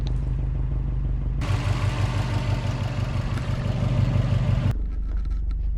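A Subaru WRX hybrid build's engine runs at a steady idle, close and continuous, with a louder, rougher clattering stretch in the middle before it settles back to a smooth idle. No talking.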